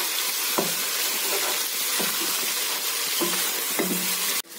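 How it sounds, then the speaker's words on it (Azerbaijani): Chicken sizzles and crackles steadily in hot oil in a pan, a loud and constant frying hiss with a few faint stirring clunks, ending in an abrupt cut. "toyuğumuzun hər iki tərəfi yaxşıca qızarana qədər toyuğumuzu yaxşıca qızardırıq."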